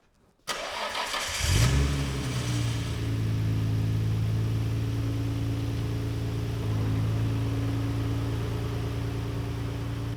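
A cold Nissan Skyline R32 engine cranks over and fires up after a moment of silence, briefly flaring before settling into a steady, rumbling idle with a slight swell in pitch midway.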